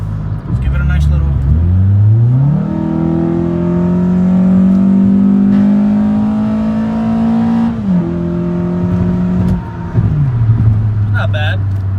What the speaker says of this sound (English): As far as the interior sound, exhaust sound isn't so loud.